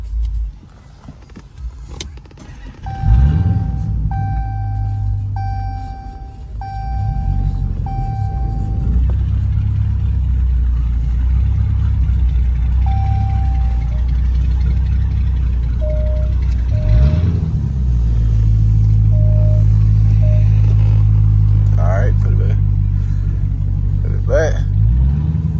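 A Dodge Charger Scat Pack runs with a steady low engine rumble throughout, rising slightly in places, while tonal chimes beep intermittently and people talk inside the car.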